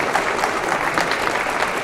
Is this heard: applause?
yes